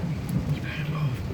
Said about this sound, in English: The rain is right. Yeah, the rain.